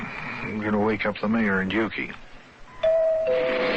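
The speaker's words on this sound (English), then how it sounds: "Oh, it's the doorbell, huh?" A doorbell rings near the end with a clear ding-dong chime, after someone speaks for a couple of seconds in a quiet room.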